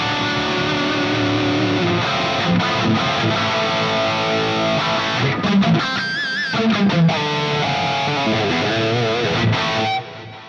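An electric guitar played through a single amp with distortion and a Symphony Hall reverb, loud sustained chords and notes ringing into a long hall-like tail, with brief choppy stops midway before cutting out near the end.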